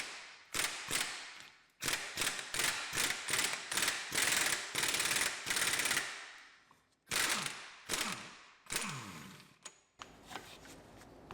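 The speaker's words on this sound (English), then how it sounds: "So now take our 32 long socket again and remove the nut." A 32 mm long socket on a ratchet loosens a drive shaft axle nut on an Audi Q7, Touareg or Cayenne, giving rapid close ratcheting clicks in bursts with brief pauses between strokes.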